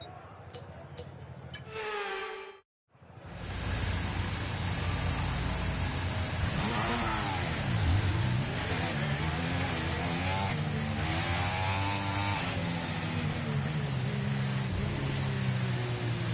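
Formula 1 car engine in a racing video game revving high and sustained during a practice start, loud and continuous with rising and falling pitch sweeps, after a brief burst of radio chatter beforehand.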